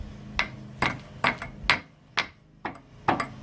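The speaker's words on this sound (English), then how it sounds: "put a small screwdriver through here and try and just give it a wee tap underneath with the hammer to knock it through" A hammer taps a small screwdriver to drive a part out of a Classic Mini subframe during stripdown: about eight sharp metallic knocks in an uneven rhythm, close by, with no talking.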